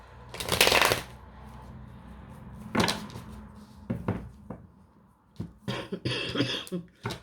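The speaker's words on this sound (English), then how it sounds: "coughing fit" A few sharp coughs in bursts with pauses between, close by, followed by smaller rustling and knocking sounds.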